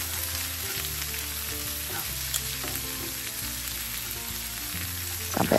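Chilies and shallots frying in a pan for salted-fish fried rice, a dense steady sizzle with occasional stirring knocks, near and uninterrupted, with a steady tonal hum underneath.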